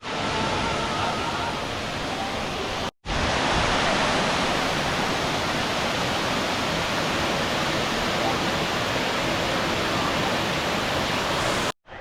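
A waterfall among volcanic rocks roars loud and close as a dense, steady rush of falling water, broken only by two brief cuts.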